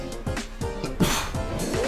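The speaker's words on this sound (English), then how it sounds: "Also, I sneezed." A single sudden sneeze bursts out near the microphone partway through, over a steady background of Gran Turismo 4 racing-game audio.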